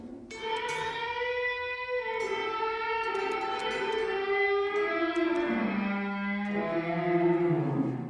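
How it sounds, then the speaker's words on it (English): Electric guitar notes ringing out with heavy reverb, sustained tones blurring into a washy tail, played alone and close. "so like if you wanted to whack up the reverb"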